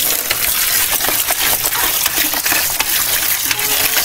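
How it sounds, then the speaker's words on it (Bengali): Cut pond fish being washed by hand in water, with steady loud splashing and sloshing throughout, close up and with no talking. "দেখুন বন্ধুরা, মাছগুলো কাটা হয়ে গেছে, এবার ভালোভাবে ধুয়ে নেব।"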